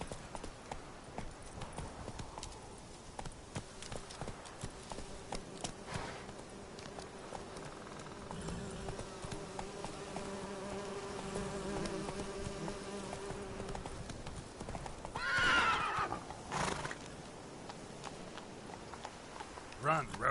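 In The Witcher 3, the horse Roach clops along at a steady trot, hooves patting evenly over a buzzing insect backdrop, with a brief louder whinny-like cry breaking through near the end.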